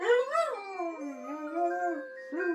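Dogs howl together in a long wavering chorus, rising and falling in pitch and close by, as they sing along to an alarm clock going off; no talking.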